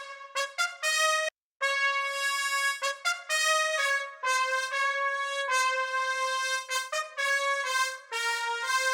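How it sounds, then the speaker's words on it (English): An orchestral trumpet from the UVI sample library plays a bright melodic line of short and held notes, with swells in intensity driven by the modulation wheel, clear and close with one brief gap. "It is the trumpet with the wheel modulation out of their orchestral suite"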